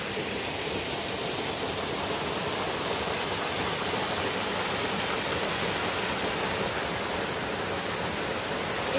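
Water rushing hard over Liffey Falls in Tasmania, a loud, steady broadband roar with no breaks, heard close by and alone.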